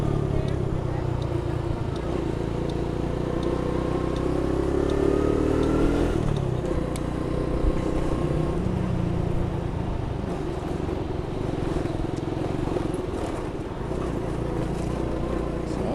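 A motorcycle engine pulls hard in first gear while riding around Brooklyn, a steady close drone with a brief rising rev, accompanied by constant road and wind noise and someone talking.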